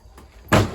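A single door thuds shut, loud and close, after a brief quiet moment.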